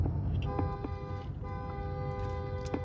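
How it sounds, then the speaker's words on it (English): A car horn honks in steady sustained blasts over traffic noise on a street, loud and continuous with a brief break partway through. "Why are you honking?"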